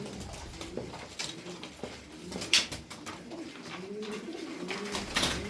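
Soft, low coos from an Antika pigeon, likely a female, repeat steadily over a busy ambient background, close by and gentle, with occasional faint clicks and rustles.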